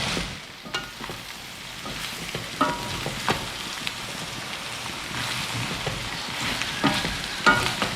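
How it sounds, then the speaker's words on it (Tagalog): Ingredients for Bicol express sautéing in a pan, giving a steady, continuous sizzle with occasional stirring scrapes and clinks, close by and moderately loud, with no talk over it. "So, tuloy-tuloy lang ang gisa."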